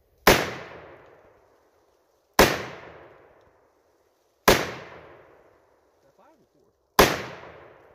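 Four loud, sharp .50 Beowulf rifle shots fired outdoors, each a hard crack with a long decaying boom, spaced roughly two seconds apart with quiet between them.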